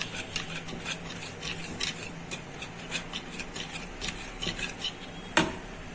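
Dhokla batter being whisked in a bowl gives soft, quick, irregular clinks and scrapes of utensil against the bowl, close and faint, with one sharper knock near the end.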